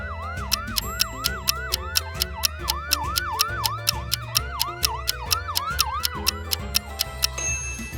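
A wailing ambulance siren cycles rapidly up and down over a steady ticking beat and low music, loud and close throughout.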